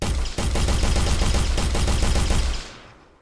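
Rapid projectile shots fired in an Unreal Engine multiplayer game, a dense, loud burst of repeated firing sounds in quick regular rhythm that runs for most of the moment, then cuts off and fades.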